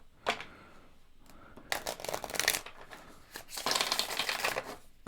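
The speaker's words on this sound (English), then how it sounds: "Get you one more good shuffle in there." A deck of tarot cards being shuffled close up, with bursts of riffling, fluttering and rustling separated by brief pauses and a single snap near the start, soft but distinct.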